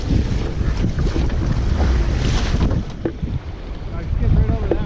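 A big wave slapping against an O'Day 23 sailboat out on open water, a loud rushing surge under heavy wind buffeting the microphone, with water churning continuously around the hull.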